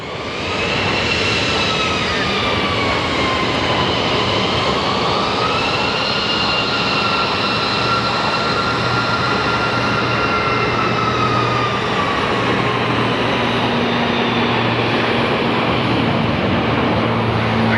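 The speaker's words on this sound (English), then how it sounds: "I'm going to film the small plane taking off" A small plane, flying for Wheels Up, takes off at Sky Harbor International Airport, its engine a loud steady roar and rising whine that holds for the full stretch, with no voices.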